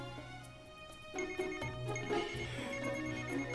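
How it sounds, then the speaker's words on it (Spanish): Telephone ringtone chirping repeatedly in a TV drama scene, fairly quiet and mixed under background music or ambience, with no speech. "Contesta el teléfono."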